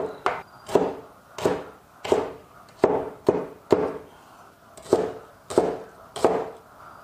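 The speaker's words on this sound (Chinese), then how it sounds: "这个五花肉，切成小丁就可以了" A kitchen knife chops pork belly into small dice on a cutting board, striking in steady, close, sharp thuds roughly every half second with no talking.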